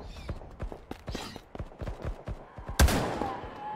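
A shotgun fires in the alpha survival game Passed Out Prologue: many short, sharp shots in an uneven rhythm, then one loud close blast near the end, with no talk.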